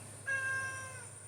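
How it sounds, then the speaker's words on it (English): A hungry cat lets out one clear, drawn-out meow close by, rising then fading over about a second against a quiet indoor background with no talking. "You hear that cat? He's hungry."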